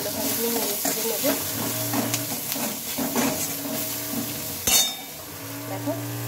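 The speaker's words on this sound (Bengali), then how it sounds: "এগুলোকে একটু ভালোভাবে নিয়ে নেড়ে ছেড়ে নেবো।" A frying mixture seasoned with salt and turmeric is stirred in a hot pan, a steady sizzle under repeated spoon scrapes and soft clinks, with one sharp clatter near the end, close and clear, no talking.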